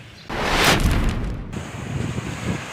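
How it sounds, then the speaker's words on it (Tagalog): Strong ocean waves breaking on a beach at San Diego, Leon, Batangas, a loud surge of surf rushing in and washing back, with steady wind noise buffeting the microphone. "Grabe lakas ng alon dito"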